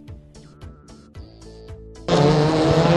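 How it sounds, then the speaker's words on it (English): Rallycross cars in a drag race to the finish line, heard first as sparse tonal engine and tyre sounds, then a sudden loud burst of broadband engine roar near the end. "Another drag race to the line"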